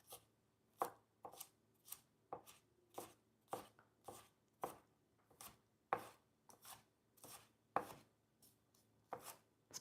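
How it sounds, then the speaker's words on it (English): A knife rough-chops garlic on a cutting board in a steady series of about fifteen crisp, close strikes with short gaps between them, and no voices. "I'm just gonna kind of rough chop these"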